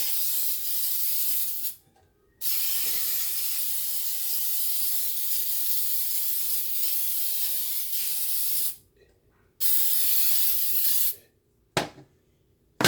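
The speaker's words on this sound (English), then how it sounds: "Go ahead and spray this real good." Long, steady hiss of an aerosol cooking spray coating a baking pan, close and loud, broken by three brief pauses before a final short spurt.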